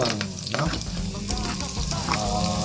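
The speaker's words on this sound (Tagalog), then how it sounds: "Konting mantika lang, okay na yan. Kaya ilagay naman na natin ang ating bawang." Garlic frying in a small amount of cooking oil in a pan, a steady close sizzle with crackling bursts running throughout.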